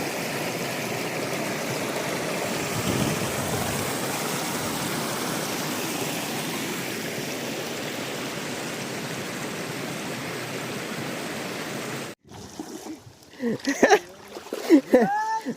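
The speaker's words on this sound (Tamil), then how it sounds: "இங்கே பாருங்கள் தண்ணி வேறு லெவலில் போயிட்டுருக்குது." Village stream water flows in a steady, loud rush for about twelve seconds, then cuts off abruptly, followed by quieter sounds with voices speaking.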